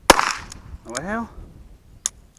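A .22 pistol fired at a steel dueling tree target from about 25 feet outdoors, one sharp loud crack at the start with a short ringing tail, then two fainter sharp ticks later on.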